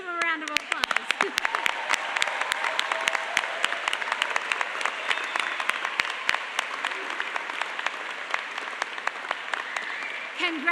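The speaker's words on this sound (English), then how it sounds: "let's give them a round of applause" An audience claps steadily through a graduate commencement ceremony, with sharp individual claps standing out near the microphone over the dense applause.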